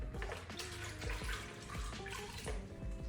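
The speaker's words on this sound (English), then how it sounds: "I went back and rinsed everything off with some clean water" Clean water runs and splashes steadily while rinsing a scrubbed dark wooden end table, a continuous close, moderately loud gush with small shifts in flow.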